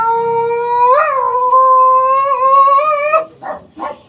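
A dog whimpers in a long, rising and falling whine, then lets out two short yips or barks at the end, close and fairly loud.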